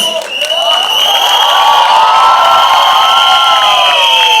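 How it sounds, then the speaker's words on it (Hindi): A crowd of fans at a movie song launch event shouts, whoops and cheers loudly and continuously, high excited voices blending into a dense roar close by. "तुम क्यों चिल्ला रहे हो?"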